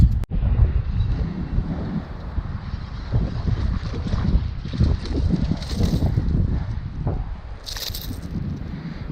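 Steady wind roars across open water during a windy day of bass fishing from a boat, a continuous broadband rush with gusty swells and microphone buffeting throughout.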